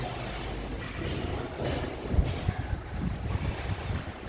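Sea waves at Kanyakumari, heard from a hotel room overlooking the ocean, make a steady broadband wash with gentle surges and some wind rumble on the microphone. No one speaks.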